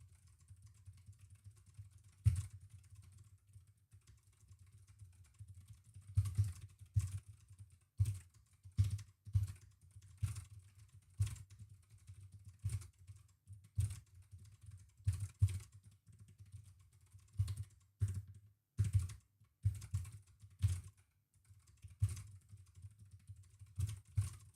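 Keystrokes on a computer keyboard during a Monkeytype typing test, quiet and close, in uneven bursts of rapid clicks separated by short pauses, with no voices.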